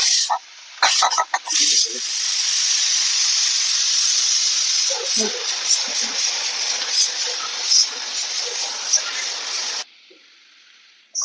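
A pressure cooker holding chicken mandi with basmati rice vents steam in a loud, continuous hiss lasting several seconds, preceded by a few short bursts and ending abruptly, close up, with no talk.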